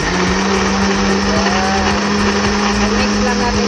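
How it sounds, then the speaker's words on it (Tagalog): A blender whirs steadily for the whole stretch, loud and close, blending a healthy banana drink with a constant motor hum. "So i-blend na po natin."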